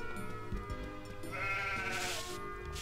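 A sheep bleats in Harvest Moon: Magical Melody, one drawn-out wavering bleat rising clearly over soft background music, with no talk.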